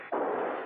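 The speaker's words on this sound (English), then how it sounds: "those gunshots" A single gunshot in an old-time radio detective drama, a sharp loud blast that starts abruptly and rings out briefly with a broad, sustained crack and no talking over it.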